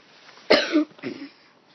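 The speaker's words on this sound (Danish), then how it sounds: "Undskyld, jeg hoster lidt." A person coughs twice, close by: a sharp first cough, then a softer second one, followed by quiet.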